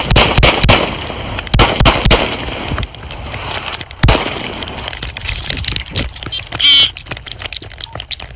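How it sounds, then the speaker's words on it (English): A police officer's gunshots ring out as a burst of several loud, sharp bangs at the start, then a few more cracks amid chaotic, noisy scuffling during a chase. "Shots fired, run,"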